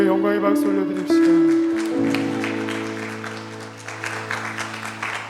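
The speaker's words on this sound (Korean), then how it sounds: "하나님께 영광의 박수 올려드립시다." A church congregation at a Korean worship service claps along as sustained keyboard chords ring out, the clapping growing into a steady rhythmic patter under the music.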